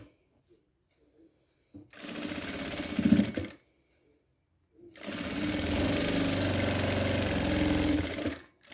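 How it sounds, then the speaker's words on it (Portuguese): A sewing machine runs in two bursts, a short one and then a longer steady run, stitching fabric pieces shaped like little houses, with a quiet pause between the bursts. "E passa a costura um pé de máquina."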